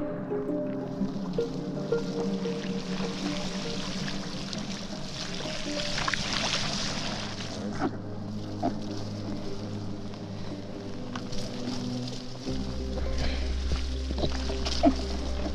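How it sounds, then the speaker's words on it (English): Heavy rain falls steadily while bikepacking across Sweden, with a dense wet hiss and water sloshing close by on a boggy track. A low rumble joins toward the end, and no one speaks. "Really raining now."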